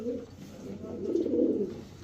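A pigeon sitting on two eggs gives a soft, low coo that swells and fades over a couple of seconds, close and fairly quiet.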